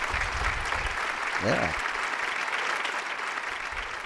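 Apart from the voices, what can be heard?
studio audience applause welcoming a guest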